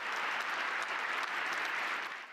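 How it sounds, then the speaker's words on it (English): Politicians applauding a speech, a dense, steady wash of clapping from a large audience that holds level throughout and fades slightly at the end, with no voices over it. "Liberal politicians applauded him at the time"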